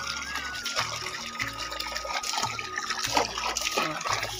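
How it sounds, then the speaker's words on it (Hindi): Water splashes and sloshes continuously while wheat is washed by hand under a tank tap in a village setting, with low rhythmic thumps underneath and no talk. "मैं गेहूँ धो रही हूँ"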